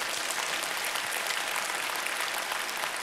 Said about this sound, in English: you guys can clap and say amen